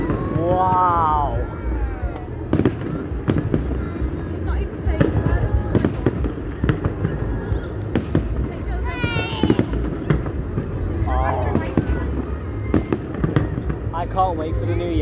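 A public New Year fireworks display over Runcorn and Widnes, with repeated booming bursts and crackling shells through the whole stretch, loud and close, while onlookers exclaim and talk over the blasts.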